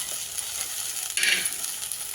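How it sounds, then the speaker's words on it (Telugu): Sesame seeds fry in a little oil in a pan for tomato chutney, making a soft continuous sizzle with a brief brighter crackle near the middle. "నువ్వులు ఇలా వేగుతుంటే కాస్త జీలకర్ర వేసుకోవాలి."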